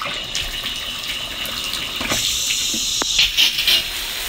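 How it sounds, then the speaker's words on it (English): A shower runs on an off-grid, gravity-fed spring water system, a steady close hiss and spray of water with a few brief clunks near the end, no talking. "we're gonna try and see if we have any shower pressure"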